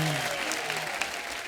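Audience applause for a guest's mother at a Bollywood talk show, dense clapping heard briefly as a loud, steady wash with some voices mixed in.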